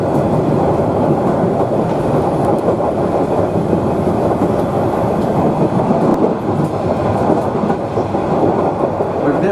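The Savannahlander train runs along a short straight stretch of track toward Mareeba in Queensland, a steady loud rumble with rhythmic clickety-clack of wheels over rail joints heard from on board.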